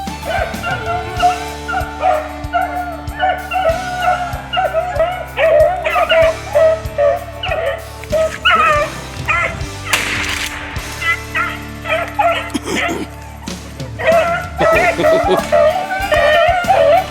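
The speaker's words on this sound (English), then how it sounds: "those dogs had another one, had another hot trail going" Hunting dogs baying on a hot rabbit trail along river bluffs, several hounds giving repeated yelping, bawling cries close by, overlapping in an excited, uneven chorus.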